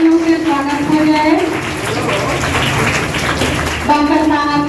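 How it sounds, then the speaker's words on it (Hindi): Loud welcoming applause from an audience at a public anti-polythene environmental awareness event, a dense wash of clapping filling nearly the whole stretch, with a voice speaking over it at the start and again near the end. "जोरदार तालियों से स्वागत हो जाए"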